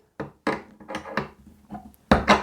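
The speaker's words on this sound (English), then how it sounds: "all we need to do is take the spanner and just give it a" A spanner tightening the collet nut on a Dewalt DCW600 cordless trimmer router, a handful of short close metallic clicks and knocks in uneven rhythm, the last pair louder.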